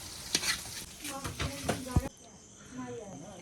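Fried potatoes are stirred and scooped out of a frying pan with a few close, scraping strokes over soft sizzling oil, then the sizzle drops to a quieter hiss.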